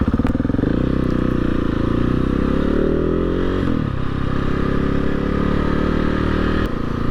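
A KTM 690 SMC R motorcycle with an aftermarket exhaust, its engine loud and close with a deep throbbing rumble that dips briefly, as if throttling off, then holds steady.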